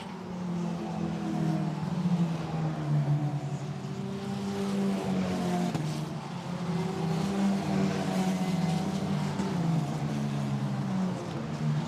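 Formula Renault Eurocup race cars from the 2019 season stream through Blanchimont at Spa-Francorchamps, running on Hankook tyres, with a steady, loud layered engine drone and shifting pitches as several cars pass in close succession.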